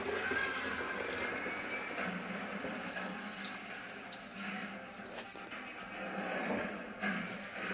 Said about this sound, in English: And you're going to pour it, oops, see, into the pitcher.